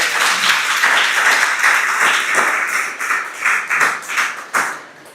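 Audience applauding at an open mic Maithili poetry event, a dense spread of clapping that thins into a few separate claps near the end.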